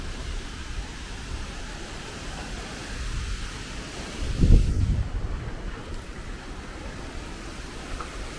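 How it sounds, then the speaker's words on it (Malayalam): Strong wind blows across the microphone in a low, rumbling steady rush, with one heavier gust swelling midway before settling back to a moderate outdoor roar. "കാറ്റ് കണ്ടോ, നല്ല കാറ്റാണ്."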